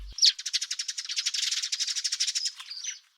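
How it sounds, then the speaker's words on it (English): A garden bird delivers a fast, high trill or rattle, notes too rapid to count, running steadily for about three seconds close and clear before trailing off. "When there are more than about 8 notes per second, individual notes become too fast to count, which we call a trill or rattle"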